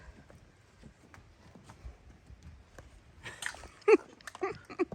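Horse hooves thud and shuffle softly nearby, with scattered movement noises growing louder toward the end and a few brief sharp sounds.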